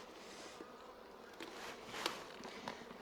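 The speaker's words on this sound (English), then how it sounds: "I'm going to put the super onto the bees in the beehive." Honey bees at a beehive on a smallholding, a soft continuous buzzing hum with a few brief louder passes as individual insects fly close.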